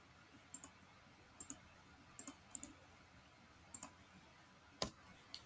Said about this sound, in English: I'm going to go ahead and click this link